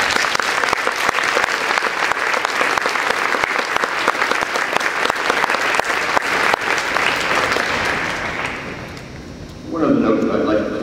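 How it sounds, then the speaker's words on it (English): An audience at a 2012 military academy and college graduation ceremony applauds the graduates with sustained, dense clapping that fades toward the end before a voice speaks over a public address system. "let's give them another round of applause"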